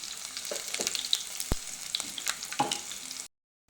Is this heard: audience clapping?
no